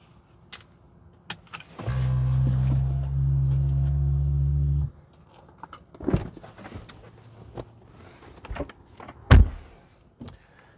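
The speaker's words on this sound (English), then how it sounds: "Open up my passenger door." A Tesla passenger door clicks and thunks open, followed by a long steady electric motor whir for a few seconds, then scattered clunks and a loud thump.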